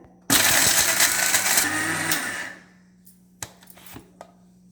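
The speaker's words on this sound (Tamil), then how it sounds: "இதை போட்டு மிக்சியில் நல்லா அடிச்சுக்கலாங்க." A kitchen mixer grinder whirs loudly as it blends roasted gram into a paste for vegetable kurma, running steadily for about two seconds before winding down, followed by a few small clicks and knocks.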